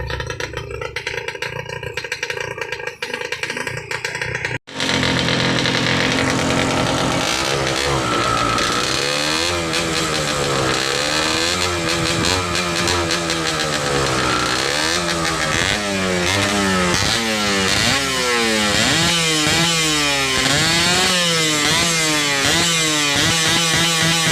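An old 1997 Suzuki RGR 150cc two-stroke motorcycle engine is revved hard and repeatedly after a brief noisy start, its buzzing note climbing and falling in rapid, loud, close bursts.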